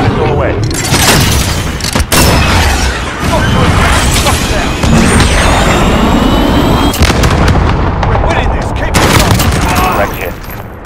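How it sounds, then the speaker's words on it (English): A cruise missile launch in a tactical video game, a loud continuous roar layered with booming blasts and rushing jet-like whoosh, dense and close throughout, with a voice speaking over the din. "Cruise missile, go for launch."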